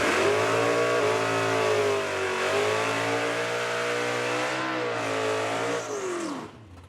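Drag race car engine held at full throttle during a launch, a loud, steady high-revving roar with rising and dipping pitch for about six seconds before it cuts back and drops away. No one speaks.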